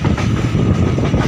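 A train rumbles along the rails on its approach to a hill tunnel in Haflong, Assam, a loud, close, continuous churning of wheels and carriages.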